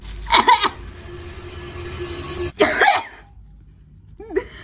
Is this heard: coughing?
yes